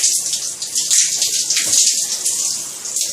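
Water running and splashing while a cat is bathed at home, a steady loud stream from a tap or tub, continuous throughout with small splashy variations.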